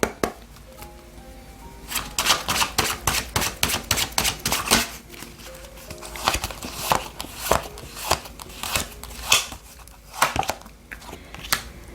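Oracle cards being shuffled by hand at a tarot reading: fast runs of crisp, papery flicks and snaps in uneven bursts, close and fairly loud, with no voices.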